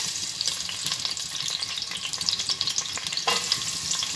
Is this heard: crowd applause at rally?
no